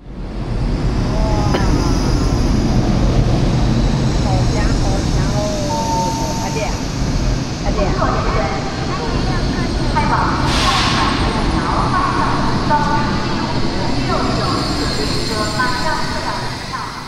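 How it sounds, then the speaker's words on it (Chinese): Steady broadband rumble of a high-speed train running toward Changzhou, heard from inside the carriage with a constant low roar beneath frequent close talking and occasional chatter. "我们坐火车了。"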